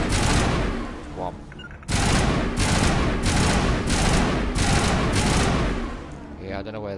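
Rapid bursts of gunfire from the video game Mass Effect Legendary Edition rattle loudly and continuously, with a brief break before a fresh volley, and a voice speaks faintly underneath.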